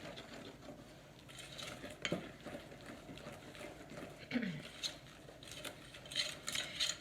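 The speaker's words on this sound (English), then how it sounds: "now we literally just mix the 3 ingredients together" A plastic spoon stirring three ingredients for a chocolate Kodiak cookie dough, soft scraping and tapping against a bowl, quiet and close with occasional sharper clicks.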